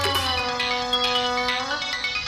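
A mobile phone ringtone plays as a short melodic electronic tune with clear repeating tones. It is moderately loud and heard alone.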